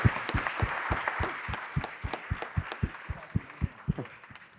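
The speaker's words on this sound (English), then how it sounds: "A very big round of applause." A small audience at a Serpentine Pavilion talk gives a rhythmic round of applause, steady even claps at an unhurried pace, fairly quiet and close, with no voices over it.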